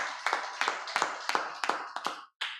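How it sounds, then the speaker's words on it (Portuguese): A church congregation at a Sunday evening service claps in a steady rhythm, about two beats per second, with a brief pause near the end. "Você entendeu nessa noite, você pode aplaudir ao Senhor."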